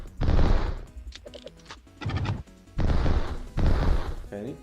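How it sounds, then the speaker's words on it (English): Black explosion effects from a bug-themed video game burst in several loud, noisy blasts with crackling, gunfire-like texture, separated by short gaps and brief tonal game sounds. "So this is probably the explosion effect."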